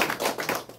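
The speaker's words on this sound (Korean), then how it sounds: "정답입니다. 박수." Audience clapping at a leadership workshop, a short burst of applause filling under a second, steady and moderately loud with no talk over it.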